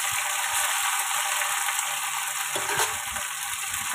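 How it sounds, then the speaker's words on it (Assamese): Okra pieces frying in oil over a low flame, giving a continuous close hiss and sizzle with faint crackles and stirring clicks, no talk. "ল' ফ্লেমত ভেন্দিখিনিও মই মচমচীয়া হোৱালৈকে মই ভাজি থাকিম।"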